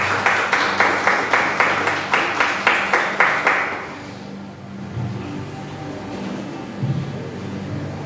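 Church congregation at an evening service held in a garage claps together in a steady, rhythmic beat for about four seconds, then stops, leaving a low room hum and faint shuffling.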